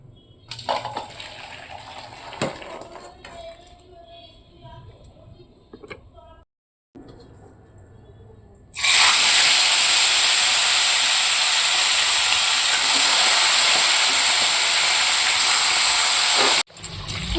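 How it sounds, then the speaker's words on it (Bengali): Large grapes rinsed under a running tap, a loud steady gush of water that starts abruptly partway through and holds for several seconds before cutting off. "এগুলো ধুয়ে পরিষ্কার করে রাখছি"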